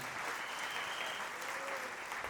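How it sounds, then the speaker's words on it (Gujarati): An audience at a community gathering in Navsari claps in sustained, dense applause, steady and fairly distant throughout. "એ સરદાર સાહેબ માટે આપણે એક વખત જોરદાર તાળીનો ગડગડાટ કરી"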